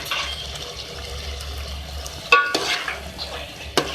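Lauki keema being stirred with chopped coriander in a pot, a low simmering hiss broken by a few sharp scraping spoon strokes, no talk.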